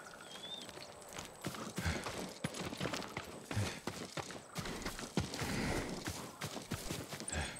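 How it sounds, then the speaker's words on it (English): A farm horse's hooves clip-clop steadily and close by in Ghost of Tsushima, a clear walking rhythm of hard knocks over a low ambient backdrop, with no speech. "A farm horse. Never seen battle. Not a samurai horse."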